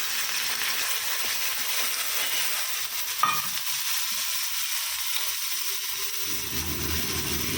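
Onions fry in a pan with salt and poppy seeds while being stirred: a continuous close sizzle with scraping strokes and one sharp clink, and no talk.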